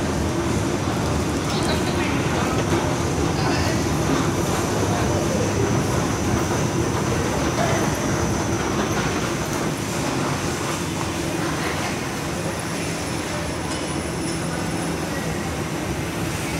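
Underground metro train running through a tunnel, a steady loud rumble with hissing wheel noise and faint clatter, continuous throughout from inside the carriage.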